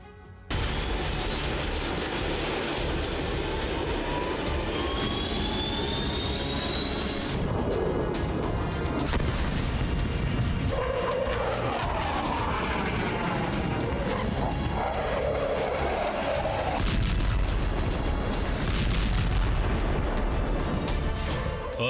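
A Rafale fighter jet roars loudly and continuously, with a rising, whistling engine tone early on that gives way to a dense, rumbling thunder with deep booming surges.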